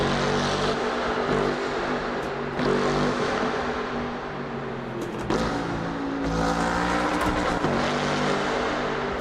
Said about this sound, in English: let's listen to this car in the tunnel.